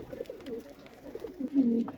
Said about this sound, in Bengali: দেখেন করে কি কত চতুর কবুতর খালি লাফালাফি করতেছে